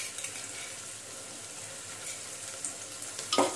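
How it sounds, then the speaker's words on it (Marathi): Ginger garlic paste sautéing with onions in a pan for soya pulao gives a steady, close sizzle with a few stirring scrapes and a brief clatter near the end, no voices. "ही आपण कांद्यामध्ये परतून घेऊया।"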